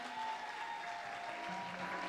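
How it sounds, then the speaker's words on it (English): A debate audience applauds the debaters with steady, even clapping that fills the room for the whole stretch. "Wapigieni makofi tena na tena."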